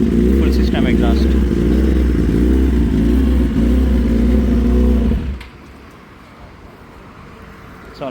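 A Suzuki GSX-R 1000 with a full-system SC Project exhaust revs loudly and roughly for about five seconds, then cuts off sharply, leaving faint background noise. Someone talks over the engine.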